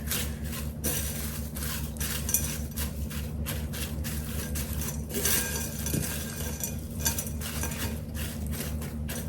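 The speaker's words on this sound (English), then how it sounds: "Give this a quick little mix" Ramen ingredients are tossed and stirred quickly in a bowl with a utensil, giving repeated close clinks and scraping knocks in an uneven rhythm over a faint low background hum.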